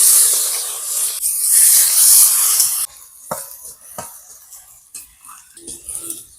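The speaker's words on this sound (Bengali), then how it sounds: "টমেটো আর পেঁয়াজ কুচি ভাজা হয়ে গেছে," Chopped onion and tomato fry in hot mustard oil with dry red chilli, cumin and bay leaf, giving a loud steady sizzling hiss for a few seconds, then quieter crackles and occasional spoon scrapes.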